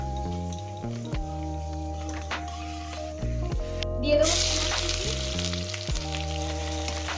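Two dried red chillies and a medium-sized bay leaf hit hot oil in a pan, giving a soft, steady sizzle that flares into a brighter, hissing crackle partway through, while low music plays underneath.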